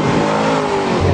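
A 2013 Ford Shelby GT500 accelerating hard out of a corner on a figure-8 test course, its engine droning loud and steady at high revs from start to finish.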